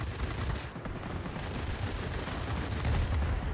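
Twin 20 mm cannons on a Yak-7 M-82 fighter in World of Warplanes fire a continuous, dense rattling burst, loud and steady over roaring engine noise, with a brief dip before the hammering resumes.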